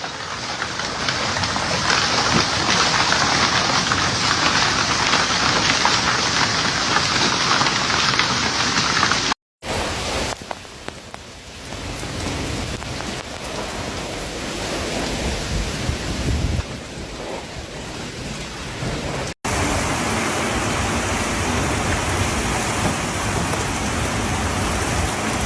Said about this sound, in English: Heavy rain, strong winds, and thunderstorms also hit in flooded parts of downtown Nurupin.